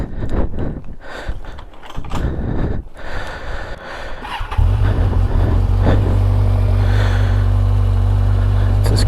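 A Kawasaki Ninja motorcycle engine starts after several seconds of scattered handling noise, then settles into a loud, steady, close idle as it warms up in neutral.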